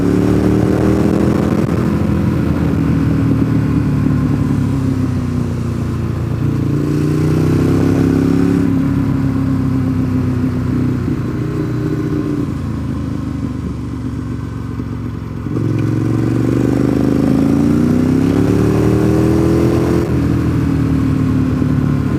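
Sport motorcycles riding at Deals Gap, engines rising and falling through the gears in repeated accelerations, a loud steady drone with wind rush, heard from the rider's own bike.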